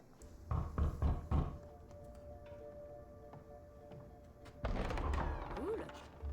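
A door is knocked on in the video game Marvel's Midnight Suns: about four quick, hollow raps come in the first second and a half, then quiet room tone, then a louder burst of game sound near the end.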